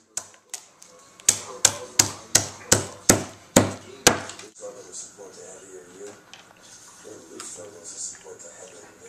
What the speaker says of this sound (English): Handy Hammer doubles as a nutcracker.